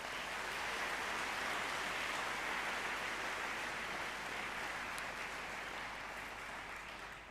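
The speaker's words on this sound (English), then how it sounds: "Let's give her a clap, shall we?" An audience at a Bangkok Patana School ceremony applauds its head of year, Claire Dale, with steady, dense clapping that fills the room and holds at full strength, easing only slightly near the end.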